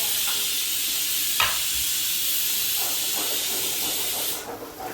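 Onions sizzle and hiss steadily in a hot pan for chicken, a close, bright frying sound with a few clinks of stirring, fading slightly at the end, with no talk.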